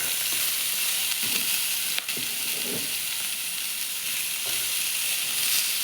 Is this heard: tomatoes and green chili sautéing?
yes